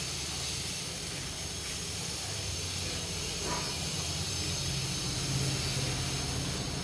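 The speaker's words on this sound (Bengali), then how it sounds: "আগে থেকে আমি কচুরমুখী সিদ্ধ করে রাখছিলাম, ওটাই দিয়ে দিচ্ছি। এখন হালকাভাবে নেড়ে নিচ্ছি।" Pre-boiled taro root being stirred in a hot pan for a home-style fish curry makes a continuous, even sizzle and hiss, moderately quiet and close.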